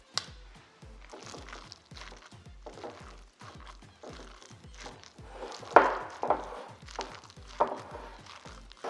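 Batter for Korean fried rice waffles being mixed in a bowl, a quick rhythmic series of wet, squishy strokes repeating close by with a few louder slaps near the end, no voices.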